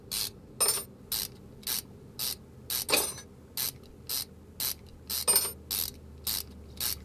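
Ratchet wrench clicking in short repeated bursts while loosening rusty engine head bolts in Car Mechanic Simulator 2021, about a dozen crisp metallic ratcheting runs at a steady pace, close and clear with no talk.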